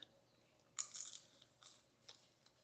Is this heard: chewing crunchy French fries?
yes